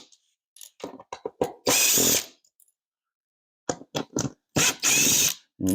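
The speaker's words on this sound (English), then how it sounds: "make sure when you're using a drill, just make sure that you don't torque too much" Power drill driving a screw, in a series of short bursts followed by a couple of longer runs at full speed, loud and close, with pauses of silence between them.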